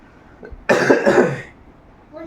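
A single harsh cough from an adult woman, close and loud, lasting under a second in an otherwise quiet room.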